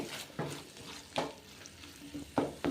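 Tomato chutney is stirred in a pan, giving soft irregular scrapes and clacks of the spoon over a faint sizzle, about five distinct strokes heard alone.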